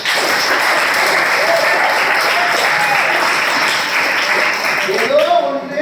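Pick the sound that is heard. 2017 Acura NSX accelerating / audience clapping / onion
audience clapping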